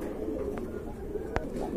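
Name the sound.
running pigeons cooing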